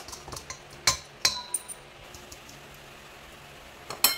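Baking powder and baking soda being mixed in a bowl for banana muffins, a few sharp clinks of a utensil against the bowl, sparse and separated by quiet stretches.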